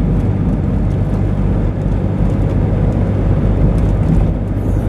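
Steady low rumble of a car driving on an early-morning road, constant engine and road noise filling the interior at high level with no breaks.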